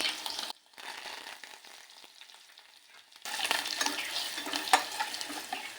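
Tempering of cumin, urad dal, green chillies, crushed garlic, curry leaves and asafoetida frying in hot oil for mango dal, a steady close sizzle that drops away briefly, then returns louder with faint stirring.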